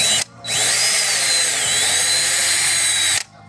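A power drill whines steadily at high speed for about three seconds while boring into a boat's gel coat to mount a transducer, loud and close with a slight pitch wobble, then stops abruptly.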